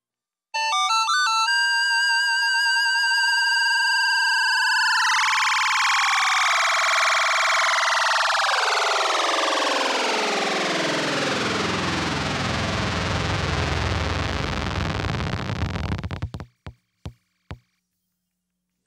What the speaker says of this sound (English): I added so much vibrato to a note that the sound turned into a buzz